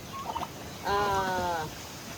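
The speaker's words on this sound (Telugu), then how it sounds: "ఈరోజు వచ్చేసిన మా కోళ్ళు" Farm chickens gather for food, with a few quick clucks followed by one loud, close, drawn-out squawking call, and no talking.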